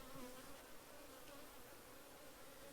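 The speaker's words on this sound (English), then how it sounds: "Now there are lots of bees." Honey bees drone in a steady, dense buzz around an open two-deep brood box hive, the sound close and continuous with brief louder passes of individual bees.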